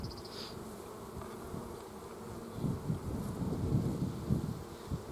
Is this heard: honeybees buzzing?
yes